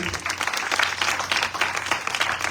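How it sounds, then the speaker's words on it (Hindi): A church congregation claps loudly together, a dense, steady roar of applause with a few voices mixed in. "आइए खुदा के पाक रूह के लिए जोरदार तालियां बजाएं"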